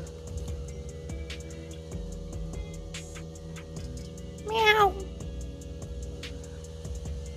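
A cat meows once, a short rising-and-falling cry over steady background hum and scattered ticks and clicks outdoors near a home.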